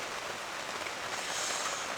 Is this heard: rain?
yes